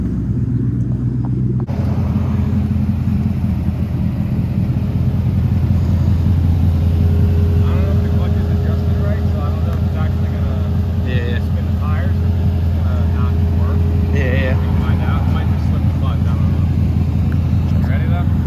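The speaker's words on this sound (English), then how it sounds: "Can you just grab one of the bricks and put it in front of the rear tire so we can let it idle out here?" A Mercury Grand Marquis with a five-speed manual sits idling outdoors, its engine giving a steady, loud low rumble that holds even throughout, with faint background activity over it.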